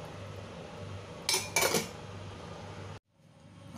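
A pot lid is set down over a pot while Chinese food with chestnuts cooks at home, making two quick metallic clanks close together, followed by a soft low background hum that then cuts out.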